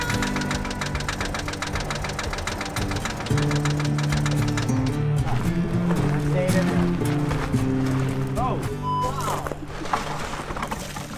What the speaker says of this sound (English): that slight sound of rod knock, we really had nothing left to lose by trying to fire this thing up